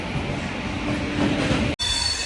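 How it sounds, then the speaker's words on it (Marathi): The Veraval Express, traveling from Mumbai toward Girnar, runs on its tracks with a loud, steady rumble and rattle, cut by one brief dropout near the end. "ट्रेन टाईमवर सुटली आपली"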